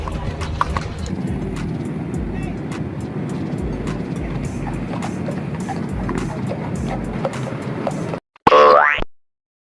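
Steady clip-clop of a police horse's hooves on pavement, a continuous rhythmic trot close by, ending with a sudden brief springy twang.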